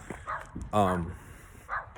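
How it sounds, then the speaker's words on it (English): Dogs bark in the background of a quiet indoor space, with one short, yelping burst standing out and a few fainter sounds around it. "got some special guests in the background, some dogs"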